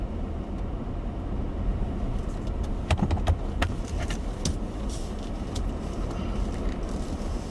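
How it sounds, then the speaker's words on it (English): A car drives slowly back into the front yard of a farm near Bakersfield, giving a steady engine and tyre rumble throughout with a few faint clicks and rattles. "Drive back in the front yard again."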